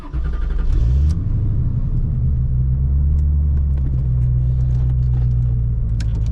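A 1991 Chevy Corvette C4 convertible engine cranks briefly, catches and settles into a loud, steady, deep idle rumble close by.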